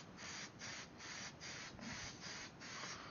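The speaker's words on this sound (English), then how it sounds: "Let's apply some hairspray." Hairspray misted from a can onto a glass 3D printer bed in a home, a series of about seven short hissing bursts in a steady, evenly spaced rhythm, close and fairly loud.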